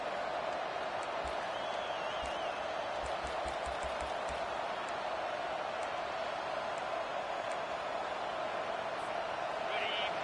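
Stadium crowd in College Football 25 roaring steadily and loudly throughout during a fourth-down stand by Georgia's opponents, a continuous wall of noise with occasional thumps and whistles beneath it.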